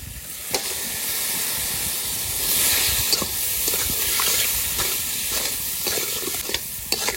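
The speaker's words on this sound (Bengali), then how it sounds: "মাছের তেলটা একটু ভালো করে ভেজে নেবো" Fish oil from silver carp frying in a pan with salt and turmeric, a steady close sizzle and hiss that runs throughout, with a few light stirring clicks and no talk.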